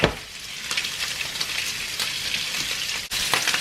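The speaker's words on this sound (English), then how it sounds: "Now you want to coat the rice completely with that oil and just sort of just stir fry it a little bit." Rice being stir-fried in oil for a Mediterranean risotto gives a steady, close sizzle and crackle with a few light stirring scrapes throughout, and nobody speaks.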